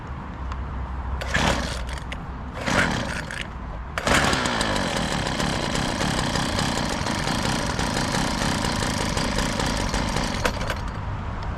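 Husqvarna 122HD60 petrol hedge cutter, a car boot sale purchase under repair, sputters through two short bursts before its small two-stroke engine catches and runs steadily at close range.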